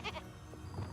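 A goat bleats in the video game Hogwarts Legacy, a single short nasal call heard up close with no talk over it.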